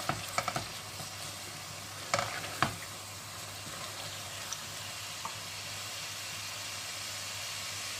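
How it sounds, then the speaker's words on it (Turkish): A pot of cooking food being stirred, leeks and thawed frozen carrots among the ingredients, with a few scraping clicks of the spoon early on over a steady low simmering hiss that fills the rest. "Karıştıralım iyicene."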